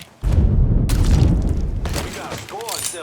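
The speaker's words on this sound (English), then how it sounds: "There's like barely an explosion with that." A muffled explosion goes off in the video game Mafia 3, a sudden low boom followed by a rumbling tail and debris clatter over about three seconds, with a voice speaking near the end.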